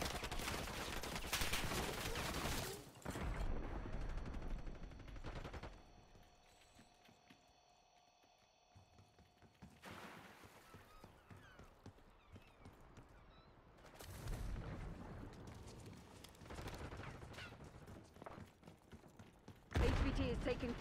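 Gunfire rattles through a Call of Duty Black Ops 6 multiplayer match, with bursts of automatic fire and impacts coming in clustered, moderately loud waves separated by quieter stretches that carry a faint steady tone and some background voices.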